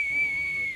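A single sustained referee-style whistle blast, blown as a penalty signal during a party game show, steady and fairly loud over a quiet room.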